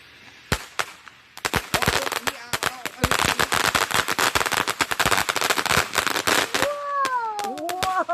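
Fourth of July fireworks and firecrackers crackle in rapid, popping bursts, some sharp single bangs then a dense stuttering barrage, followed by whistling rockets rising, with people reacting nearby.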